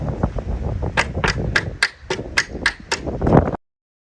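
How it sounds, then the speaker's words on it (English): A hammer taps drift pins out of joined Workhorse 2-inch panels: about ten sharp metallic knocks in an irregular rhythm, close and clear, ending abruptly. "Then tip a section up and tap out the drift pins."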